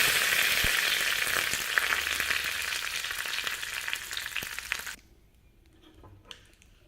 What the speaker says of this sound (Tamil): எண்ணெய் சூடாயிடுச்சுங்க உளுந்தம்பருப்பு சேர்த்துக்கிறேங்க கடுகு கொஞ்சங்க